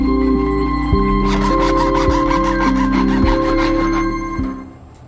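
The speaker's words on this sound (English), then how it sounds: "Take a 2-inch PVC pipe and cut it to 30 inches in length using a saw" A hand saw cuts through a 2-inch PVC pipe in steady back-and-forth strokes, loud and close, over faint background music, before the strokes stop near the end.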